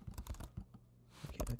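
Keys clatter on a MacBook Pro keyboard in quick, uneven bursts, close and fairly quiet, with a short pause midway before the typing picks up again.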